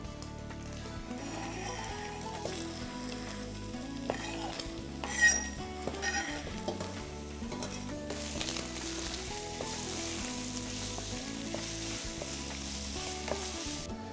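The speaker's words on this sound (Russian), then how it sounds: "А теперь, когда мясо уже обжарилось и скворчит, я могу добавить в него лук." Meat and onions sizzling as they fry in a pan, a steady hiss with occasional stirring scrapes and clinks of a utensil, growing louder once the onions go in.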